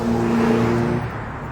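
A car passes fast along a street, a loud engine roar that fades as it moves away.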